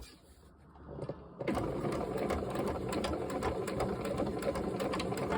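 A sewing machine back-stitching a fabric gnome, a quiet start followed by a steady, rapid mechanical whir of stitching that runs on continuously.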